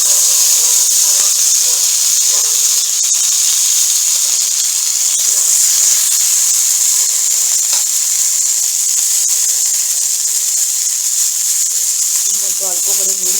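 Okra pieces for a sour okra dish fry in oil with chilli and five-spice seeds, a loud, steady, close hiss that runs unbroken throughout with faint crackle.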